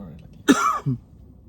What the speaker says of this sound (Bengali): ঠান্ডা লাগছে একটু কাশি আছে